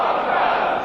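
A large crowd at a religious celebration in Hussainabad shouts a slogan together in response to a call, a loud, close, sustained mass of voices lasting less than a second.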